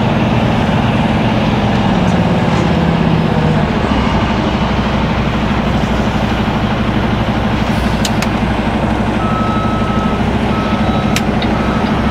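A truck's reversing alarm beeps in a steady repeating pattern while backing up, loud and close over a constant low engine rumble, with no talk.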